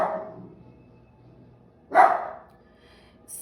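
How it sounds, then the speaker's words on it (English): A puppy barking indoors: a fading bark at the start, one sharp loud bark near the middle, and another beginning at the end, with quiet gaps between. "that's my puppy"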